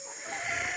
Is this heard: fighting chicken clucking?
yes